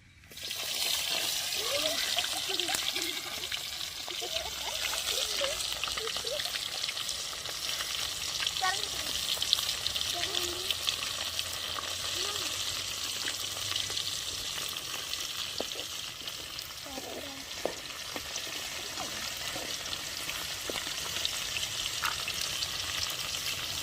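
Onions frying in oil for a quail curry cooked outdoors in a village, a long steady sizzle with bubbling and occasional stirring scrapes, moderately close, faint background murmur but no clear talk.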